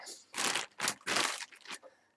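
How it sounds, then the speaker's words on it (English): Plastic bags crinkling and rustling in several quick, loud bursts close by, then fading out. "I also have a huge amount of plastic bags"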